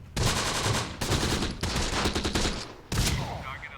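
Gunfire and tank fire roar in the WW2 Sicily battle of the video game Close Combat, with dense bursts of fusillade and machine-gun rattle in loud close blocks separated by brief gaps.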